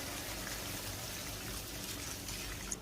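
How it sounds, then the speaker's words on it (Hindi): Three cups of water pour into a pot of sautéed spices for cooking rice, a steady close splashing gush that runs without a break and with no talking. "अब चावलों के लिए पानी शामिल कर देते हैं।"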